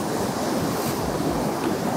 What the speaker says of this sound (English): there's actually a really nice big wave coming now